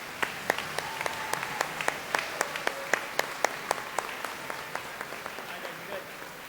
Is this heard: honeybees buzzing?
no